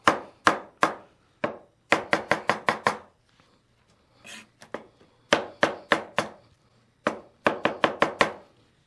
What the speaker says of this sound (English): So we're going to cut around the core of the pineapple.